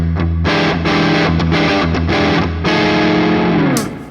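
Loud distorted electric guitar with neck pickup in series mode, an Enya Sonic JT, chords strummed in a driving pattern, with a thick, full-bodied tone and a ringing final chord, no voices.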